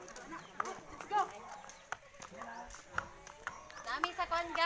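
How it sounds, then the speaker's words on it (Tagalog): Horse hooves clip-clop along a roadside beside a slope in a rural barangay, a steady walking rhythm of close, fairly soft hoofbeats mixed with people talking throughout. "Ang pangalan sa among kabayo, Bumske."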